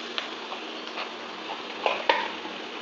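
Two bay leaves and a 3-inch cinnamon stick are dry-roasted in an empty pan, giving soft, close scraping and light ticking as they are stirred, with faint sizzle-like rustle throughout.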